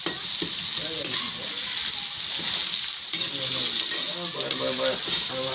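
Spices sizzle steadily in hot oil in a pan for a rooster curry, a loud continuous frying hiss with occasional stirring as people talk over it.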